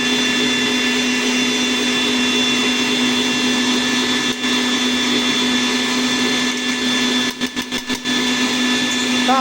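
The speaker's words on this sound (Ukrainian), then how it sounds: "також перемелюємо все." An electric meat grinder runs steadily, mincing chicken liver pâté ingredients with carrot, onion and pork fat; a continuous loud motor whine with brief dips near the end as the load shifts.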